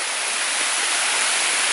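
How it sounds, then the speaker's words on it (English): Spring water flowing straight out of the ground on an Appalachian mountainside, a steady, close, loud broadband rush of water with no pauses and no voices. "I've been actually taking my water from springs just coming directly out of the ground, right from the mountain, right from the source"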